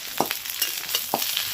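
Chopped onion, crushed garlic and three or four slit green chillies frying in a pan, a steady close sizzle broken by a few sharp spatters and stirring scrapes.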